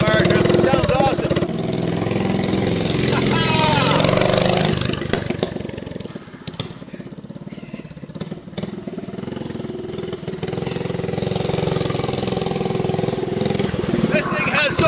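A Bad-Dog 212cc Hot Rod minibike engine starts and runs, a loud close mid-pitched rumble that dips briefly and then picks up again, with someone talking over it.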